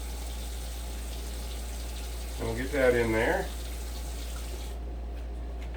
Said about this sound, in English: we'll fill this one up with water also